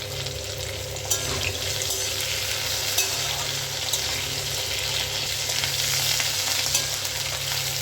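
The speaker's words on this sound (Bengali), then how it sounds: "তো আলুটা লাল করে ভাজা হয়ে গেছে।" Potatoes with curry leaves fry steadily in hot oil for a Bengali mixed-vegetable curry with figs, giving a continuous close, even sizzle with faint scrapes of stirring and no talk.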